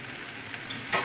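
Kurdai, dried wheat noodles, being stirred in a frying pan with oil and coriander: a loud, close, steady sizzle with a scraping stir near the end.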